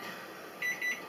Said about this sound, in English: so there's our timer